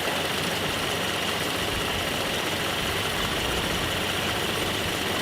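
A Nissan 720 ST Datsun pickup, long neglected and needing a tune, idles steadily with a constant rough mechanical drone and no talk over it.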